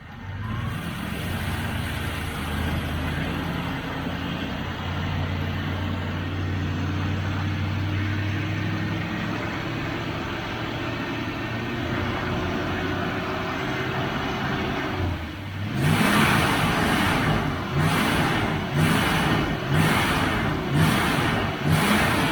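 A 1971 Triumph Stag engine with Stromberg carburettors runs close up with an idle that will not settle, holding a steady drone that slowly rises in pitch, then revs harder with rhythmic surging pulses near the end.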